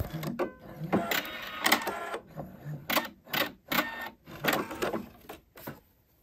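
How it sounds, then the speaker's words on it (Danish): A home sewing machine runs over elastic at the waistband of a circle skirt in short, uneven bursts of stitching separated by brief pauses, close and moderately quiet. "Og jeg lægger den simpelthen bare ret mod ret og syr hernede over"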